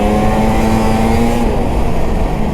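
A ZR6000 snowmobile's engine running steadily while riding on trails, a loud, continuous drone with a strong tonal whine that holds level, then eases slightly partway through.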